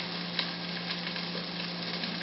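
Garlic and ginger sizzle steadily in a hot pan, a close, even frying hiss with faint stirring ticks and no talking.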